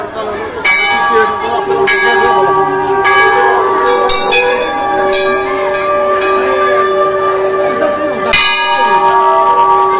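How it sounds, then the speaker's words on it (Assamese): A 50 kg temple bell rings during a Krishna Phuldol festival, struck repeatedly at a steady pace. Its loud, sustained metallic tone rings on close by and overlaps between strikes. "আৰু এই ঘণ্টাটো 50 কেজিৰ ঘণ্টা হয়"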